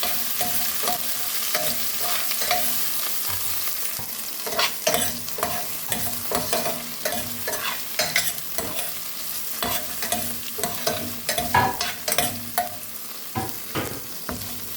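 Four slit green chillies frying in a pan while being stirred for Malabar-style ghee rice, a steady sizzle broken by repeated scraping and stirring clatters up close.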